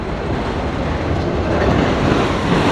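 A CSX freight train of autorack cars rolls steadily past in Fostoria, Ohio, turning from southbound to eastbound, with continuous loud rumbling wheel and rail noise and faint clickety-clack throughout.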